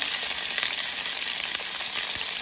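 Squid stir-frying in a hot pan, a dense, loud, continuous sizzle heard up close with light crackling and occasional stirring clicks, no voices.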